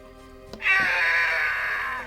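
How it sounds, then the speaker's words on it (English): A 23-year-old Simpsons Treehouse of Horror collectible play set lets out its default screaming sound effect, a single loud electronic scream that rises suddenly after a brief click and holds, slowly fading, with no talk over it. "which is a screaming sound"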